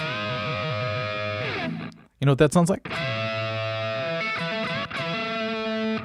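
Distorted electric guitar rings out with sustained, buzzing chords, breaking off briefly as someone speaks, then resuming steadily.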